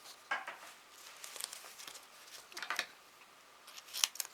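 Scissors snip a small piece off while assembling a handmade friendship card, with a few crisp, close cuts and light paper crinkling in a quiet room.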